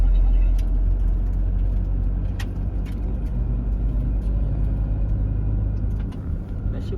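Road traffic crawls along in a queue at night in West Bengal, with a steady low rumble of vehicle engines nearby and scattered sharp clicks and knocks over the continuous drone.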